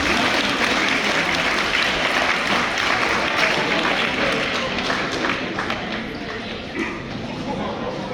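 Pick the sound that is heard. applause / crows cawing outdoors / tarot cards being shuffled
applause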